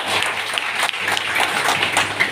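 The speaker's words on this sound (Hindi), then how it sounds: "सबके लिए जोरदार ताली हो जाए" An audience at a business meeting claps in a short, lively burst, with crisp hand claps piling up close and fairly loud.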